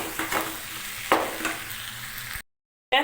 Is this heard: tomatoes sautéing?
yes